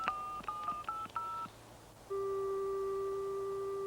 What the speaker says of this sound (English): I told my sister Edie I'd phone her when the tree was planted.